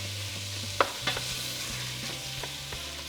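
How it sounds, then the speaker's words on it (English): Italian sausage and ground beef brown in a pan with a constant sizzle, while a spatula breaks the meat apart with several clicks and scrapes over the frying. "Perfect, so we're just browning up the sausage."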